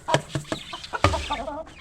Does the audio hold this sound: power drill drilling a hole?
no